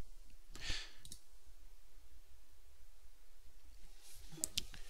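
A few faint computer mouse clicks, a pair near the start and another pair near the end, over quiet room hiss, submitting an uploaded CT scan in software that builds 3D-printable bone models.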